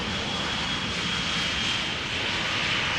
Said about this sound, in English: Lufthansa in the Star Alliance livery arriving from Frankfurt A319